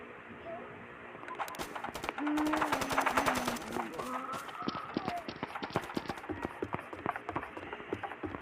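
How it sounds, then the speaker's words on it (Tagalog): Suppressed gunfire in the mobile shooter Special Forces Group 2: rapid bursts of muffled shots with sharp transients, fairly loud and dense in the middle, then continuing as scattered shots among other game sounds. "Naka-silencer na agad yung baril natin."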